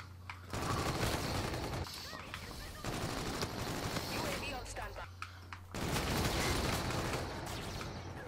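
Automatic gunfire in the video game Infinite Warfare, loud sustained bursts of rapid shots with brief gaps, close and dense, with speech mixed in.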